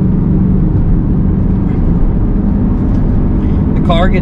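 A supercharged LS3 Chevrolet Camaro SS on a test drive, its engine a steady, loud, continuous drone with road roar throughout, and a brief whistling whine rising near the end.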